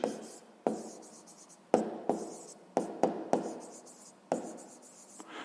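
Pen scratching across paper in a series of separate strokes with small taps and pauses between them, close and fairly quiet while working a 6th-grade math exercise by hand.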